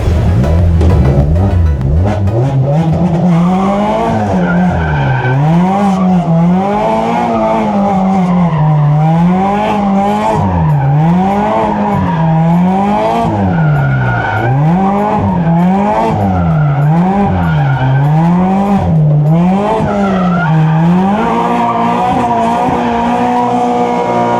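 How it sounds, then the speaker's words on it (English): A Mazda race car spins celebratory donuts on the Clark Speedway track after an endurance race, its engine revs rising and falling in a steady cycle while the tires skid and squeal continuously, loud and close throughout. "I will do the celebratory donut"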